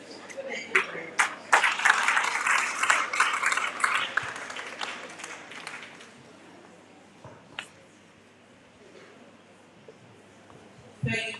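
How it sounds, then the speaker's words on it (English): An audience claps for a guest speaker at a girls' senior high school forum, a burst of scattered applause lasting a few seconds that fades out, with talking and a few stray claps afterward. "Let's give her a round of applause."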